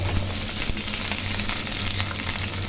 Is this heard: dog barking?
no